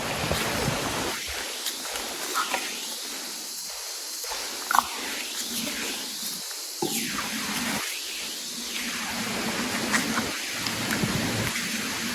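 Heavy rain pours steadily in a tropical downpour while low rolling thunder swells and fades several times, a continuous wet hiss under the deeper rumbles.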